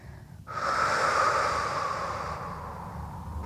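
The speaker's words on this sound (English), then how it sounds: "Just breathing into the ribs and exhale." A long, audible breath during a Pilates lower back release exercise on a ball, starting suddenly and flowing as a close, soft airy rush for about three seconds, with no talking.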